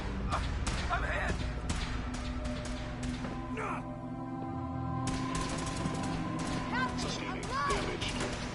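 Fallout 4 combat with repeated sharp gunshots and bursts of fire, some rapid clusters, under tense shouting voices and a background hum.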